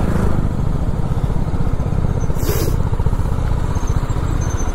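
A BMW G310RR motorcycle engine runs steadily and loud throughout, a continuous close rumble with a brief hiss midway, no talking over it.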